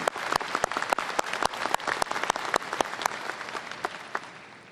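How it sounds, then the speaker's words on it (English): An audience at a university ceremony celebrating a new mace gives a round of applause, sharp individual claps ringing out distinctly in a loud, lively patter that gradually thins toward the end. "let's give them a tremendous round of applause"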